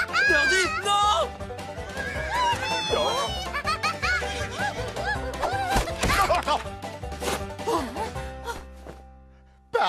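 A cartoon pony whinnies loudly and repeatedly in rising and falling neighs over a cartoon music bed.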